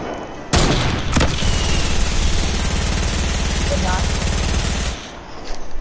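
Rapid automatic gunfire from an online multiplayer shooter, a dense sustained burst running for several seconds with a sharp opening shot, loud and close, mixed with game noise while players talk excitedly over it.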